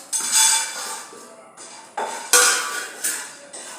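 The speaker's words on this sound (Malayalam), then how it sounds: "ഇനി കടല നമുക്ക് വറുത്തെടുക്കാം." Chickpeas being dry-roasted in a pan by a junior chef, heard as a series of loud metallic clinks and scraping knocks of the utensil against the pan, several sharp hits spaced irregularly.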